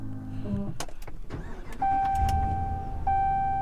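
A 2021 RAM 1500 pickup truck engine cranks and catches after some interior clicks and chimes, then settles into a steady idle with a high electronic tone.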